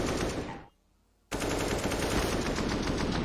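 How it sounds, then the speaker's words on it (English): Dense, sustained AK rifle gunfire from the Counter-Strike video game at an esports match, slowed down into a loud continuous roar that cuts out briefly before resuming just as heavily. "Now, the slowed down AK sound, one of my faves."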